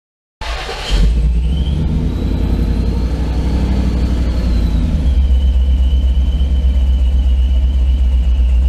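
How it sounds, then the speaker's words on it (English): An engine with Holley Sniper EFI fuel injection cranks and catches, revving briefly before settling into a loud, steady rumbling idle close by. "We'll allow the engine to warm up, and then we'll work on setting the idle air control."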